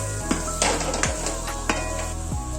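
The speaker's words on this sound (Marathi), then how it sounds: "चांगला मलूल होईपर्यंत टोमॅटो आपल्याला ह्याच्यात शिजवायचा" Tomatoes cooking in masala in a pan for Kolhapuri misal, with a steady low sizzle and a few scraping, clinking stirs of a utensil against the pan. No talking.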